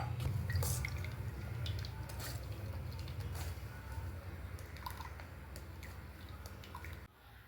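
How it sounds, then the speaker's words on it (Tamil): Cooled boiled water pours in a soft, steady trickling stream into mint and tulsi juice for several seconds, fairly quiet and close, before stopping abruptly. "இதில் கொஞ்சம் தண்ணி சேர்த்துக்கலாங்க."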